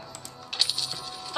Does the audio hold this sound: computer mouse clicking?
yes